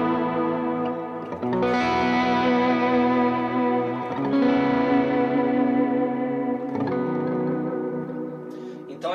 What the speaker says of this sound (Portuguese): É aquele som limpo, mas que já está saturando